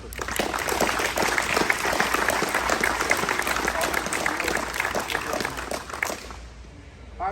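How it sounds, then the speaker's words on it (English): An audience applauds at a swearing-in ceremony with the oath of office. The dense, steady clapping lasts about six seconds and then fades away. "Please, round of applause for them."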